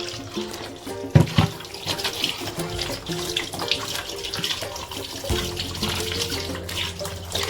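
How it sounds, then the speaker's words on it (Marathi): Running tap water pours into a kitchen sink as bangda mackerel fish are washed by hand, a steady close splashing stream with a few sharper knocks and sloshes near the start. "आता ही मम्मी धुणार आहे माझी मच्छी"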